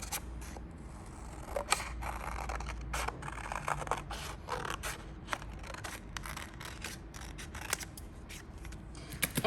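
Scissors snipping through painted paper, a quick run of crisp cuts and rustles, close and fairly quiet.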